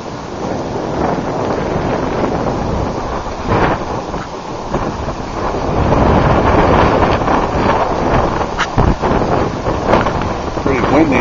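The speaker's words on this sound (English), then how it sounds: "Pretty windy out here today." Strong gusty wind blows across the microphone outdoors at a cemetery on 6th Street North in Nampa, Idaho, a loud continuous rushing roar that grows heavier midway with sharp buffeting bursts.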